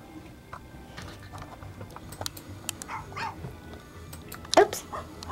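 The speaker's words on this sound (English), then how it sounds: "you're on the dog now" A dog in The Sims 4 gives a few short, scattered yips and whimpers under steady talk from players, with a faint ticking in the background.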